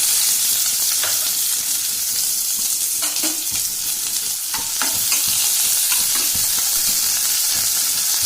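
Cumin and onion frying in a pan give a loud, steady sizzle, with scraping stir strokes and occasional crackles running throughout.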